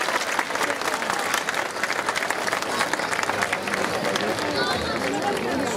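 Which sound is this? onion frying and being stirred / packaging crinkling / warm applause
warm applause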